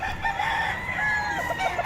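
A rooster crows at a busy outdoor flea market, a single drawn-out call with a few clucks, moderately distant under general market hubbub and no talking.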